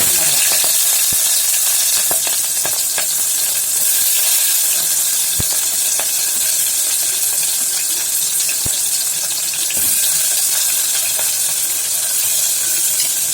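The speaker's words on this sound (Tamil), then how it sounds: "வெங்காயம் வந்து கொஞ்சம் வதங்கிடுச்சு" Onions sizzle and fry steadily in a pan for mutton biryani, a loud continuous crackle with occasional stirring clicks and no talking.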